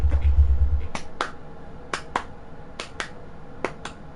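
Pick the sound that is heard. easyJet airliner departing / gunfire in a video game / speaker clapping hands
speaker clapping hands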